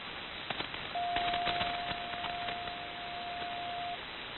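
A steady single tone drones for a few seconds over faint static and clicks, a ham radio station tuning up on a shortwave band.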